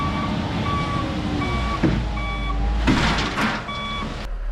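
A truck approaches with a repeating electronic reversing beeper, steady evenly spaced beeps over a constant engine rumble, with a few louder bursts of hissing air-brake noise partway through.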